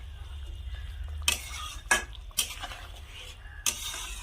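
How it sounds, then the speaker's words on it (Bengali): Fried pankal fish being stirred into gravy in a pan, with several distinct scraping strokes of a spatula against the metal between quieter stretches, close and fairly loud with no talking. "মাছ জুসের সাথে খুব ভালো করে নেড়ে চেড়ে মিশিয়ে নেব"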